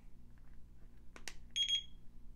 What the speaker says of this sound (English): And you get a single beep, tells you your alarm's on.